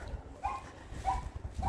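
A dog barks a few times at a moderate distance outdoors during a walk in the rain, short yapping bursts over steady low rumble and wind noise.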